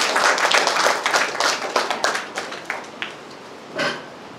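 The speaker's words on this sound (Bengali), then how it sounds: "একটা জোরে হাততালি হবে।" An audience at a Bengali reception ceremony claps loudly, a dense burst of many hands that thins into scattered claps and fades out, with one last clap near the end.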